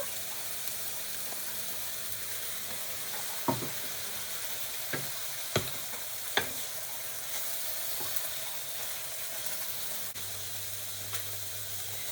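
Courgettes sizzle steadily in a pan with oil and soy sauce, a constant close frying hiss broken by a few sharp clicks and clatters of utensils.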